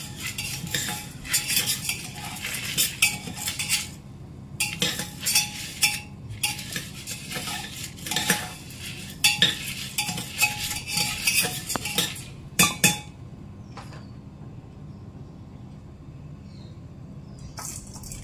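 Chana dal frying in ghee inside a pressure cooker is stirred with a metal utensil, giving repeated close scraping and clinking strokes in bursts with brief pauses, then a quieter stretch near the end.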